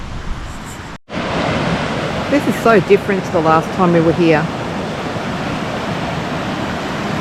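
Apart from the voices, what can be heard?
fast-running creek after floods and heavy rain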